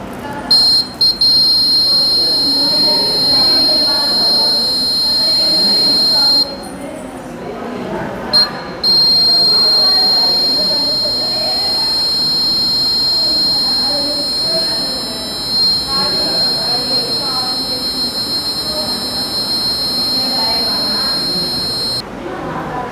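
A student-built gas leakage detector project with a sensor and red bulb sounds its buzzer, a steady high-pitched electronic tone that cuts out briefly a few times, running under continuous speech.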